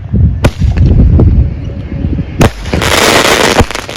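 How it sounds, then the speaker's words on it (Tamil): Aerial firework bursting overhead with a crackling falls effect: sharp pops followed by dense, loud sizzling crackle that spreads out after a second burst. "மேலே போய் வெடித்து வந்து சட சட சடன்னு பொரியும்"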